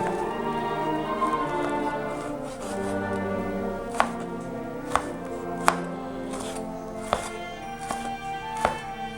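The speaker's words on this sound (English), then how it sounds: "Then what I usually do is just cut it into quarters again" A knife cuts peppers into quarters on a cutting board, giving about five or six sharp, separate chops spaced a second or so apart over a quiet kitchen background.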